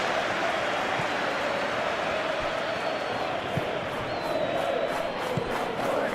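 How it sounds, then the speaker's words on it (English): Steady, dense stadium crowd noise from a PES 21 football match roars continuously throughout, with no clear breaks or peaks. "it certainly got the crowd going"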